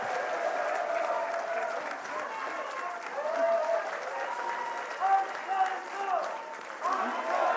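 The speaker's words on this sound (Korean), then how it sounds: "지금까지 수고해 주신 세 분께 다시 한번 큰 박수 부탁드립니다." Studio audience at a televised Korean talk show applauding steadily and warmly, a dense wash of clapping that swells a few times and carries on without a break.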